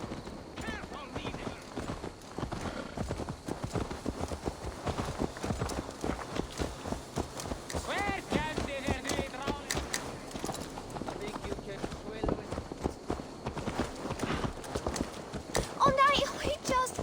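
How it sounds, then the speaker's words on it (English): Horse hooves clip-clop steadily and close up in Assassin's Creed Valhalla as a horse is ridden along, with a constant rhythm running under spoken dialogue from start to finish. "Let's return the horse."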